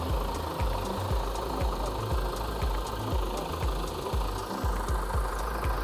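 A farm helper machine's diesel engine idles close by, a steady low rumble with a regular knocking pulse throughout and no talk over it.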